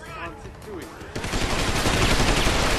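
Heavy gunfire erupts in Deus Ex: Human Revolution, a dense, loud volley of shots that starts abruptly after a quieter stretch and keeps rattling continuously to the end.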